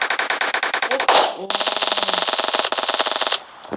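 Rapid automatic gunfire from a shooting video game, dense bursts of shots with a brief pause before firing resumes and continues steadily, loud and close, with players talking over the action.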